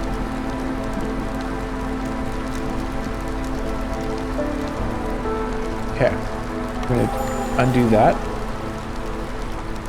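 Steady rain falls during drizzle season in the colony-building game Against the Storm, making a constant patter and hiss under game music, while someone talks briefly near the end.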